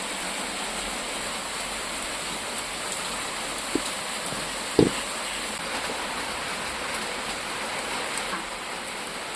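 Steady rain falls during Cyclone Fengal in a village, a soft continuous hiss of drops on surfaces with a couple of faint knocks; fairly quiet and even throughout.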